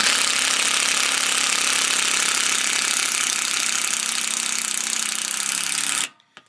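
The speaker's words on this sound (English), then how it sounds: "it starts off going quicker, and then it slows down as soon as the screw catches" A power drill driving a screw into a deck rail gives a loud, steady whirring grind for about six seconds before cutting off abruptly, close up and with no talking.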